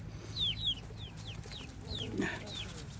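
A rooster and hens cluck in a series of short rising calls, fairly close, over a low background rumble.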